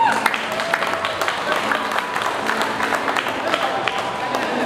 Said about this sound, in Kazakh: жеңешемен бір шапалақ ұрып қояйық ағайын